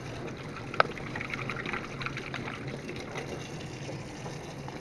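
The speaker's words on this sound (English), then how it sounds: "And you're going to wash your hands." Tap water runs steadily at a faucet during handwashing, a soft continuous hiss with one sharp click early on.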